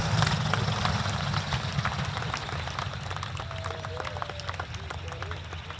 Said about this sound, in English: A round of applause, please, for Mr.